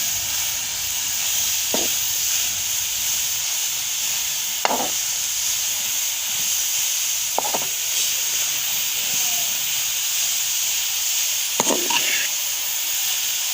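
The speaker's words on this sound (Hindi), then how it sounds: "इसको खूब अच्छे से हम इसमें भूनेंगे और साथ साथ चमचा चलाते रहेंगे" Carrots for gajar halwa roasting in a pan, with steady sizzling hiss and a few sharp scrapes and clinks of a spoon stirring at intervals, close and fairly constant.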